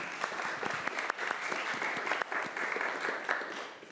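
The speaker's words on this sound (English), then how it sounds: "Round of applause for Jeff." A lecture audience gives a round of applause at a talk on do-not-resuscitate forms, a moderate, steady patter of many hands clapping together for a few seconds.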